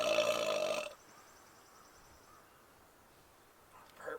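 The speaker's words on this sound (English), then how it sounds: "Burps are getting vicious." A single loud burp right after drinking Bubly sparkling water, lasting under a second, followed by quiet room hiss and a faint sound near the end.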